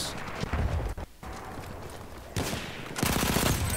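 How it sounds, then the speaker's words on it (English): Automatico M1918 automatic fire in the World War I shooter Battlefield 1, with loud dense bursts near the start and again toward the end, a sustained rapid rattle over a noisy battlefield background with no talking. "Destroying people with this Automatico."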